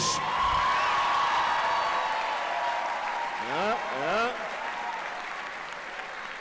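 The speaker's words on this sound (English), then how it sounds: "Can you give me a round of applause to the New Heights basketball team" A graduation-ceremony crowd claps loudly and steadily for a championship basketball team, a dense wash of hands that slowly tapers off, with a few cheers and voices mixed into the din.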